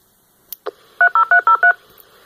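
After a couple of clicks, five quick DTMF side-tone beeps from a Baofeng handheld radio sound in a row, slightly tinny through a radio scanner's speaker.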